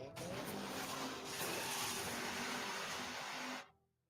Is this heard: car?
yes